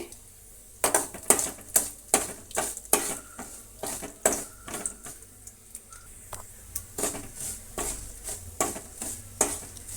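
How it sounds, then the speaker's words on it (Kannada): Lentils and dried chillies fry quietly in oil on low heat while a spoon repeatedly stirs and scrapes against metal in an irregular rhythm of clinks. "ಈಗ ಇದನ್ನು ಫ್ರೈ ಮಾಡೋಣ ಸಿಮ್ಮಿನಲ್ಲಿ ಇಟ್ಕೊಂಡು ಫ್ರೈ ಮಾಡಿ"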